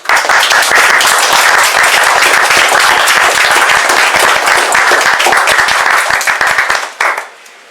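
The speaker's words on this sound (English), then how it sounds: "A round of applause for Dominic." Audience applause at an open-mic poetry event, a steady, full round of clapping from a room of listeners that holds loud and even for about seven seconds before quickly dying away.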